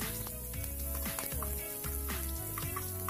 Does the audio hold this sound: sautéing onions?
yes